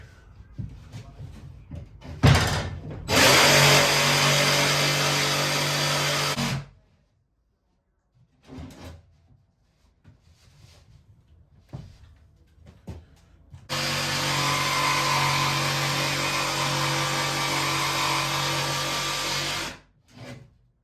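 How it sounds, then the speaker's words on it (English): A power saw cuts through wood in two long loud bursts, also nicking a sawhorse, with brief knocks and clatter in the pauses between them, inside a narrowboat. "apart from sawing through some of Rob's sawhorse, that's a nice cut"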